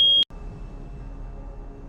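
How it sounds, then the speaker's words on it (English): An apartment smoke alarm gives one short, piercing electronic beep that cuts off abruptly, followed by quiet room tone. "Apparently the fire alarm in my apartment is telling me it's a bad time to be arresting O'Malley."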